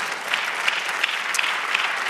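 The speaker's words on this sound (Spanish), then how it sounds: "Dale otro aplauso al Señor." A church congregation gives sustained applause during a sermon, a continuous even roar of clapping at moderate distance with a few sharper claps standing out.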